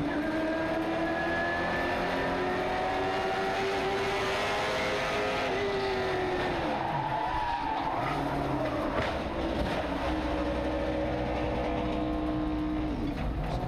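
Limited late model race cars roar around the track at Southern National's Thanksgiving Classic, after a heavy four-car crash in turn one. Engines drone loudly and steadily, with pitch sweeps as the cars pass and rev, and no one speaks.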